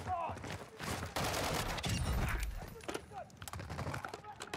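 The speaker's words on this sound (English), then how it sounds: "this shotgun is just doing wonders against all the bots" A shotgun fires at bots in the Call of Duty DMZ video game, heavy gunfire bursts in a busy, loud game mix, several reports packed together near the middle, with a voice talking faintly underneath.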